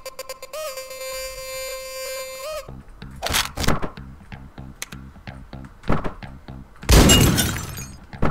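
Glass windows shattering in the Hotline Miami video game: a sustained synth tone gives way to thumps and crashes, ending in a loud, bright burst of breaking glass.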